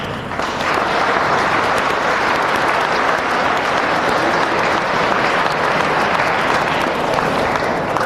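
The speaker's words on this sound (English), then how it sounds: "I'd like at this time for you to give the faculty a round of applause, please." A large crowd at a high school graduation ceremony claps loudly and steadily for the faculty, a dense sustained round of applause that fills the hall without pause.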